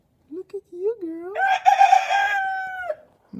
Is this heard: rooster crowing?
yes